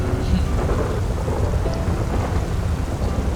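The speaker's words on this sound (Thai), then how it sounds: "เสียงฟ้าผ่าสมจริงชิบหาย น่ากลัวเลย" A loud thunder strike rolls through a video-game thunderstorm in GTA V, a deep sustained rumble over steady rain with no break in level for the whole stretch.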